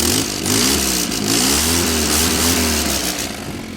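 A Willys Jeep engine runs steadily close by, its rough idle lifting into a rev and settling again after a leaking fuel pump fix and idle mixture adjustment, loud and continuous with no voices.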